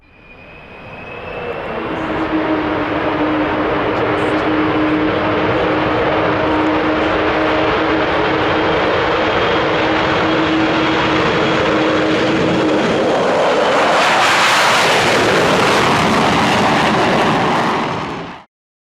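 Loud, steady roar of large propeller aircraft engines droning continuously, swelling to a harsher, brighter peak before cutting off abruptly at the end.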